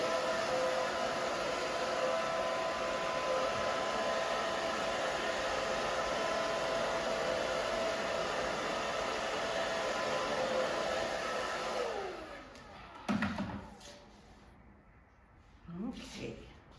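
A hair dryer on its low setting blows a steady, close whooshing roar while drying short hair, then cuts off near the end, leaving faint handling noises.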